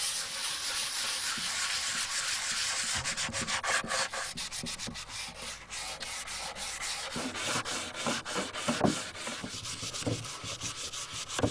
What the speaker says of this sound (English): you want to particularly sand the areas that would normally receive the most wear